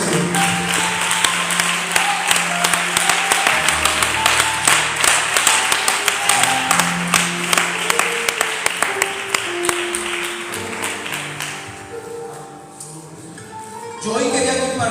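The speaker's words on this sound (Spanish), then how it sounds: "Dale ese aplauso al Señor." Church congregation clapping in praise, sustained rhythmic applause with music playing alongside, fading out before a speaker resumes near the end.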